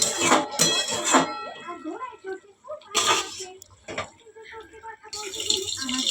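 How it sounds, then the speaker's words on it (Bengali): Fried potatoes stirred into spice masala in a pan, giving loud intermittent clattering scrapes of utensil against metal in bursts, with quieter pauses between. "এবার এটাকে ভালো করে মশলার সাথে খুব সুন্দর করে নাড়াচাড়া করে নেব আমি"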